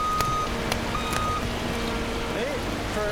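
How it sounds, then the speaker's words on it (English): A truck backs up with its reversing alarm beeping repeatedly in sharp, evenly spaced tones over a constant engine rumble and background noise. "the beeping is also very loud"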